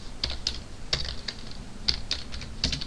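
Close, steady typing on a computer keyboard, with crisp irregular key clicks spread evenly across a few seconds and no voices.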